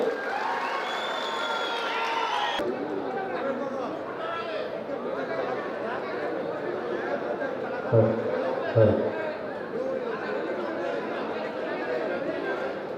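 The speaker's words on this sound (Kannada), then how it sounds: "ಅವರೊಂದು ಜೋರಾದ ಚಪ್ಪಾಳೆ ಬರಲಿ" Crowd applause and chatter fill a large political rally hall with Karnataka Chief Minister Siddaramaiah present, steady clapping mixed with voices, and a couple of brief louder bursts near the end.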